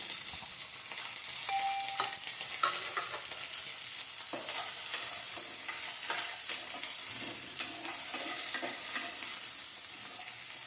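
Drumstick pieces, onion and tomato fry in hot oil in a pan, a continuous soft sizzle with occasional stirring scrapes, steady and fairly quiet with no talking.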